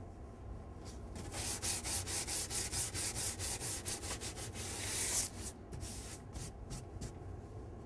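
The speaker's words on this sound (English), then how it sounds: "And take a little sandpaper, clean that up a little bit." Sandpaper rubbing over a wood veneer cabinet side, a steady run of quick back-and-forth strokes, close and fairly soft, with a few slower scrapes trailing off at the end.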